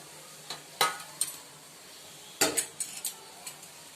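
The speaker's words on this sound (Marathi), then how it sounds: "आपला हलक्या हाताने सारण मंद आचेवर लालसर परतून घ्या, जेणेकरून गूळ वितळून जाईल" Coconut and jaggery modak filling stirred and roasted in a pan over low heat, with scattered metallic scrapes and clinks of a spoon against the pan over a faint sizzle, close and without speech.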